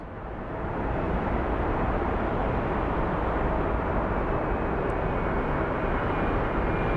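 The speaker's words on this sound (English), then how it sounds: "Oh, that's an A320." An Airbus A320 passes overhead near Phoenix Sky Harbor International Airport, its engines making a steady, loud, broad roar that swells over the first second and then holds.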